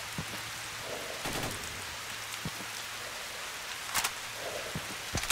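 Steady autumn rain in S.T.A.L.K.E.R. Radiophobia, a constant hiss of falling water with occasional louder drops and splashes.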